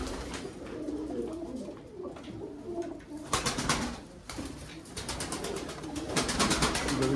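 Pigeons coo in an airy, spacious coop, with soft repeated cooing and rustling over a steady background of bird activity, louder bursts near the middle and end; no talking.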